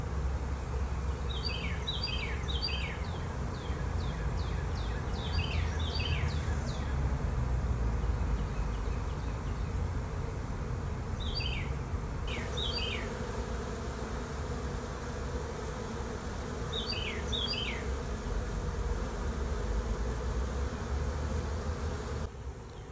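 Steady, dense buzzing of a large honey bee swarm moving into a top bar hive fills the whole stretch, with a few chirping bird calls rising above it now and then.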